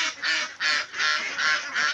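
Two-month-old farm ducks quack in a rapid series of about six loud, nasal calls close by, with brief gaps between them.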